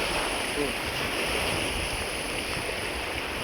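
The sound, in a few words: strong wind over the water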